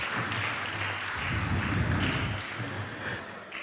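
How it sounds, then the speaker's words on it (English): A temple audience at a Sunday feast claps to welcome first-time visitors, a moderately loud wash of applause swelling in the middle and tapering off over a few seconds. "let's give a warm round of applause to welcome you all"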